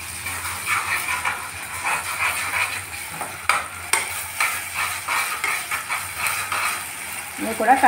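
Ginger garlic paste fries in a pan of oil with field beans for a mutton and fenugreek curry, a continuous hiss with rhythmic stirring scrapes, close and fairly loud, a faint voice under it.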